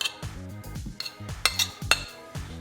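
Cream cheese and butter being beaten together in a bowl, with a few sharp utensil clinks against the bowl's side over steady low tonal background music.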